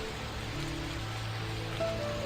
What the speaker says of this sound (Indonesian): ditambah dengan gerimis yang melanda